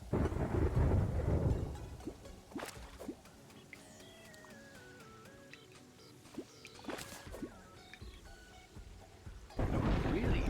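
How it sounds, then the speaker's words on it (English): Thunder rolls through a video game storm in loud rumbling bursts at the start and end, with sharp cracks and a quieter stretch between, while rain patters throughout. "And yet another storm."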